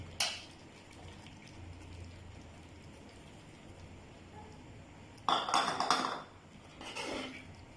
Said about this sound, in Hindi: अब इसमें खुश्क मेवे डाल दूंगी थोड़े से